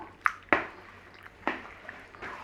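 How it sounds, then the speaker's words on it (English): Cheese sauce is poured over a chicken, broccoli and rice casserole mix and stirred through, giving a few soft wet squelches and drips spaced apart, close and fairly quiet. "Straight over the top of there with our cheese sauce mix. Stir through."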